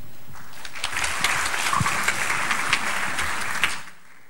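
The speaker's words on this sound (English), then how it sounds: "please round of applause for her talk" Audience applause at a Ruby programming conference, sustained clapping from a room full of people that fades out near the end.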